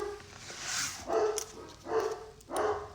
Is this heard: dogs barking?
yes